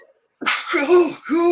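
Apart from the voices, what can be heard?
sneeze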